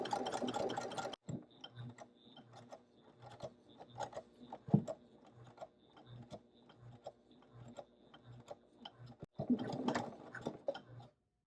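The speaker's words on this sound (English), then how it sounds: "take it to your machine, whatever you're doing your top stitches with, and sew that curve" A sewing machine top-stitches a curve on jeans, its needle chattering in short runs with brief stops between them, close and fairly quiet, ending in a longer steady burst of stitching.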